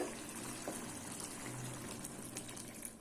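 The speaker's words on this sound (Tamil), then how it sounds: "இப்போ நான் தண்ணி ஊற்றுறேன்" Steady rushing of about a glass of water being poured into a cooking pot of eggplant and drumstick curry, a continuous splashing fill with no talking, moderately close and even in level throughout.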